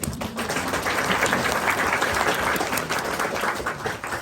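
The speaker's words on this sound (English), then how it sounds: "Can we just give them a round of applause?" A round of applause from an audience at a talk, steady dense clapping filling the whole stretch at moderate distance without a break.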